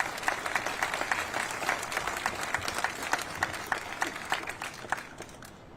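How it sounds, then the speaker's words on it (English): An audience at a Houston National Vietnam War Veterans Day ceremony gives a steady round of applause, with crisp individual claps standing out from the crowd throughout. "Give them all a round of applause"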